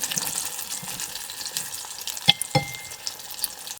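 Hilsa fish frying in hot oil in a pan, a continuous soft sizzle with occasional sharp scrapes and clinks as the pieces are gently stirred.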